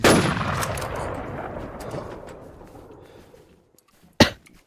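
Gunfire in the online survival shooter Warz Infestation: a loud close shot with a long decaying echo that fades out, then a second sharp shot near the end.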